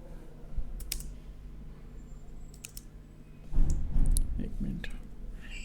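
The PEDIT command is typed on a computer keyboard in AutoCAD 2017 as a run of quick, close key clicks, ending in a louder burst of taps and a firmer keystroke, with faint background hum.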